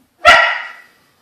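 A pet dog eager to go outside lets out one loud, sharp bark up close that trails off quickly into silence.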